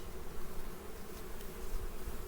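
Honeybees buzzing around frames lifted from an open hive during an autumn queen replacement, a steady, dense drone close by that runs the whole time with no speech.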